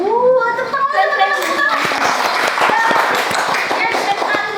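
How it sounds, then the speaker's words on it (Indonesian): A school OSIS gathering breaks into applause after a voice briefly speaks, a crowd of hands clapping and cheering with scattered young voices mixed in. "tepuk tangan."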